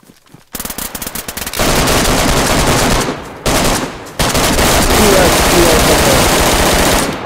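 Rapid machine gun fire in a multiplayer shooter. A few quick, choppy shots lead into long, loud sustained automatic bursts, broken by brief pauses.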